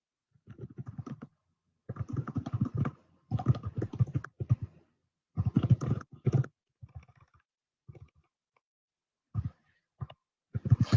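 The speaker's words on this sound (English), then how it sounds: "So I'm typing a question to you all" Bursts of rapid clicking keystrokes on a computer keyboard, typed in short runs separated by brief pauses, close and fairly quiet.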